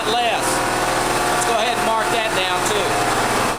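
Engine at high idle fitted with a homemade muffler, a steady loud droning hum with a rough pulsing texture, continuous throughout while a person talks over it.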